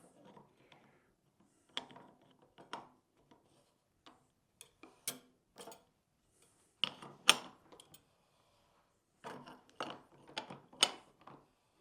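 A ratcheting wrench torques a rifle barrel down onto a reaction rod held in a Rock Vise during a 350 Legend to 6mm ARC swap, giving quiet, irregular clusters of sharp mechanical clicks separated by pauses.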